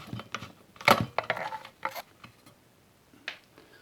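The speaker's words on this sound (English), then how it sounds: "So you remove 2 screws." Two screws come out of a ceiling fan motor with a few sharp metallic clicks and small rattles close by, then quieter handling noises.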